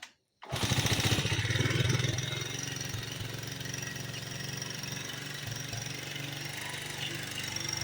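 After a brief silence, the small engine of a homemade vehicle bursts into life and keeps running loudly with a fast, rattling, steady chug.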